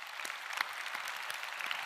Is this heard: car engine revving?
no